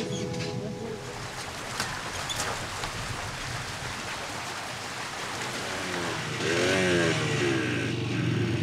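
A motorcycle engine idles and revs close by, rising in pitch toward the end, amid a hissing, rain-like background.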